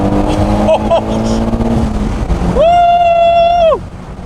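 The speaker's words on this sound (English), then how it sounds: "So right now we're going to take it for a quick test drive and see how it is." A car fitted with a newly installed COBB Accessport V3 tuner drives on a test run, its engine rumbling loud and close with wind noise, then a sustained horn-like tone sounds for about a second.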